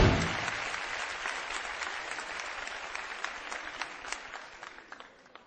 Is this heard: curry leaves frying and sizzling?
no